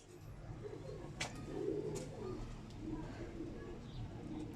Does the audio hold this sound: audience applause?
no